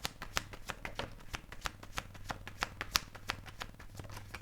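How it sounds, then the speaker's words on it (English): A deck of cards is shuffled up close in a quiet room, a rapid series of crisp riffling flicks and taps in irregular bursts, with no talking. "I barely shuffled the deck"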